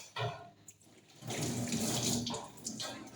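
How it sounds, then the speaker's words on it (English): Tap water runs steadily into a kitchen sink while hands are washed between steps of making a chocolate dessert, a continuous close splashing hiss that starts after a brief pause and holds for a few seconds. "Wash your hands."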